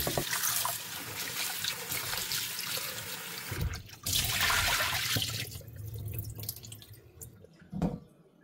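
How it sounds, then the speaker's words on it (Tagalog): Running water splashes and trickles as salt-soaked bitter gourd (ampalaya) is rinsed, a steady close wash with shifting splashes that ease off toward the end, no talk over it. "banlawan natin ang ating mga ibinabad sa asin ampalaya"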